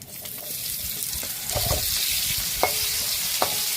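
Black cumin seeds and two bay leaves hit hot oil in a pan, with a steady sizzling hiss that rises in intensity midway, along with a few light clinks of utensils.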